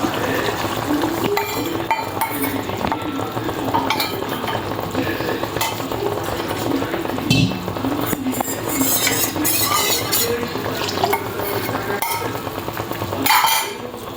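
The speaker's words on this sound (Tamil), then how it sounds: "தண்ணி விட்டுட்டு கிண்டிக்கிட்டே இருங்க" Steady scraping and clinking of a spoon stirring a thick gram flour and water mixture for Bombay chutney in a metal pot, continuous and close, with a faint background hiss.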